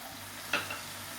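Ginger garlic paste and spices sauté in a pan with a brief stir, a short scrape and sizzle over a quiet, steady frying hiss.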